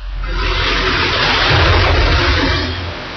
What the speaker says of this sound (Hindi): नदियों का पानी शहरों में, गांवों में घुस रहा है।